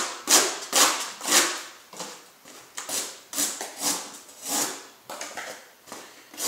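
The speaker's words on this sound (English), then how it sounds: "Full flat grind, obviously, it flies through this cardboard" A full-flat-grind K390 steel OTK knife slicing through a cardboard box, a rapid series of crisp slicing and tearing strokes, about a dozen close cuts in an even rhythm with no talk.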